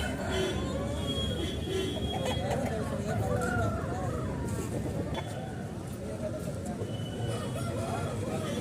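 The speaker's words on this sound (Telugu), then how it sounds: "వారం సంతకు వచ్చినటువంటి కోళ్ళు ఇవి" Many country chickens cluck and a rooster crows amid a busy crowd at a weekly poultry market in Anantapur, India, with people talking and general market bustle all around.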